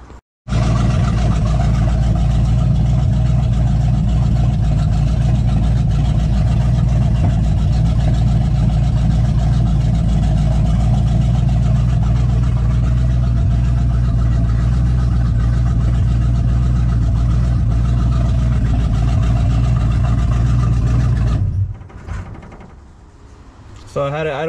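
A 1966 Chevrolet Impala's 400 small-block V8, running hot, idles steadily with a low, even rumble for a long stretch, close by, then cuts off abruptly near the end.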